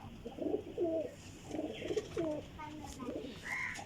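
Several pigeons coo in soft, repeated low rolling phrases at a breeder's loft, with a few brighter chirps mixed in, fairly close and moderately loud throughout.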